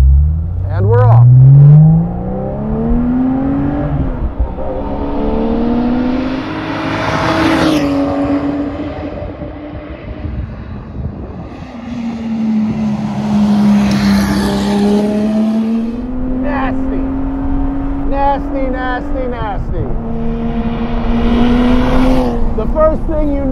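A Guntherwerks Speedster, an extreme Porsche 993 build, driven on a road loop near Malibu, its engine note rising and falling steadily through gear changes and close up, while people talk over it.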